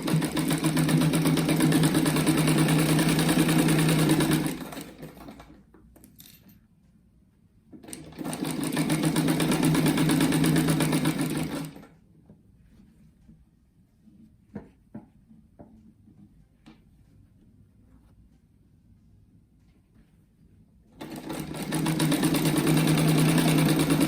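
A sewing machine stitches a striped rug in long loud runs of fast, even buzzing, broken by quiet gaps with faint handling clicks before it starts again.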